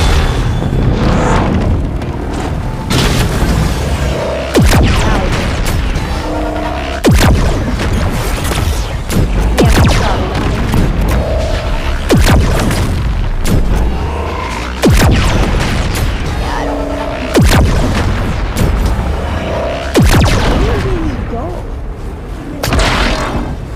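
Repeated heavy booming blasts from a plasma cannon fired at a house in a video game, loud impacts every few seconds over a continuous rumbling background, with talk mixed in.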